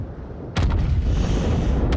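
A Yamato battleship fires a turret salvo in World of Warships, a sudden heavy boom after a quiet lead-in, followed by a second quick report and a long rumbling roar that lingers loud to the end.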